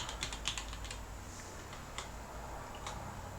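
Keys clatter on a computer keyboard as a Linux terminal command is typed, a quick burst of close, light clicks early on, then a few scattered taps over low room hum.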